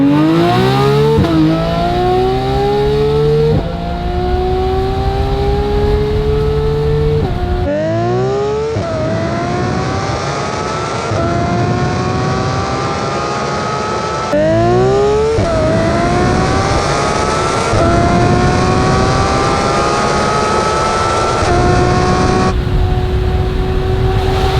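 A procharged Porsche GT3 RS engine screams up to 9,000 RPM in hard gear pulls, loud rising wails that climb through each gear with sharp drops at every shift, close and sustained throughout.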